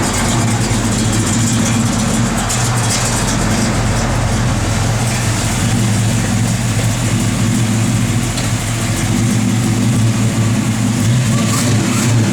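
A 1969 Chevrolet Camaro SS with a big-block V8 idles steadily and loudly up close, a deep continuous engine rumble holding level for the whole stretch with no talk over it.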